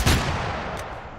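Shotgun blast in Totally Accurate Battlegrounds, a single loud, close boom that rings out and trails off over about a second, with no talking.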